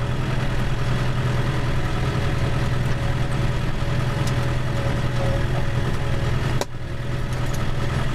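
A tractor engine idles steadily before grass mowing, a low continuous rumbling drone close by with one brief dip, and no talk over it.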